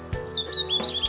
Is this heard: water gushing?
no